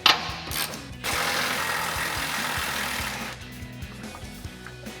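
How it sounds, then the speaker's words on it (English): A ratchet with a 24mm socket clicks in quick repeated bursts while loosening control arm nuts on a 2007-2015 Silverado 1500 front end, close and fairly loud over a hissy garage background. "then we have our ratchet with a 24mm socket on the back side"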